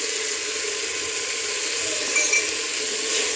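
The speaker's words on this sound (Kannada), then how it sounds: "ಚೆನ್ನಾಗಿ ಫ್ರೈ ಮಾಡ್ಕೊಳ್ಳಿ." Vegetables fry in a pan with turmeric and salt, giving a steady, close sizzle with faint stirring scrapes and no talk.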